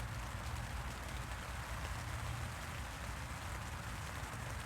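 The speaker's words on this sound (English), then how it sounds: "it's not even a hard rain. I mean, I don't know if you can hear it or not" Soft, steady patter of light rain on a taut tent, continuous and even with no voices, a gentle sprinkle rather than a downpour.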